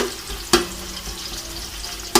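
Onions frying lightly in about a cup of oil for beef mandi, a steady close sizzle with two sharp knocks of a spoon against the pan, with no talking.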